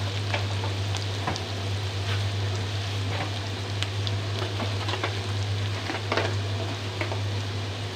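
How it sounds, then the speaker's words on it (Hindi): Garlic frying in a pan for a spicy arvi and baingan curry, giving a steady close sizzle with a constant low hum and scattered small pops throughout, with no talking. "लहसुन डाल दिया, इसको भी हम फ्राई करेंगे 2 मिनट"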